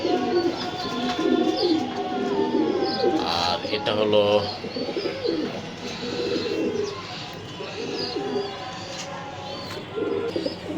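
Racing pigeons from a race team coo in a loft, with chirps around them, while someone talks over much of the sound.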